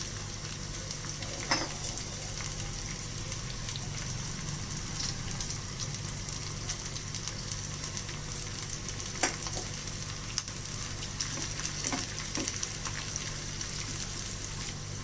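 Sliced onion sizzles and fries in a pan, a steady crackling hiss with occasional stirring scrapes and taps. It continues throughout with no voices.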